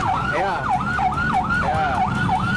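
An ambulance siren carrying an emergency patient wails loud and close, rising and falling in a quick repeating yelp over traffic rumble.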